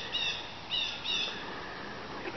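Several short, high chirping bird calls in bursts of two or three from a backyard flock of chickens and pheasants, over a quiet outdoor hiss with no talking.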